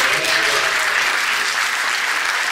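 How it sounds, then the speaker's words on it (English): A crowd at a Black History and unity celebration applauds Deacon Eddie Little, a brief burst of loud, dense clapping that fills the room throughout. "Give him a round of applause."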